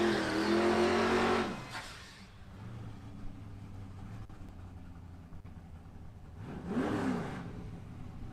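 A nitro Ford hardtop funny car at a drag strip makes a loud engine roar that fades as it accelerates away with slight tyre spin, then a second loud pass swells and recedes later, under distant track ambience.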